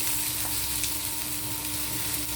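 Onions, garlic, ginger and two large tomatoes sautéing in hot oil for a paneer gravy, giving a steady, loud, close sizzle that runs unbroken with no talking.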